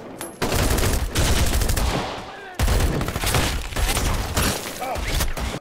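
Dense gunfire from an action film shootout, with heavy bursts of rapid shots and explosive blasts filling the scene, a brief gap midway before the firing resumes just as loud.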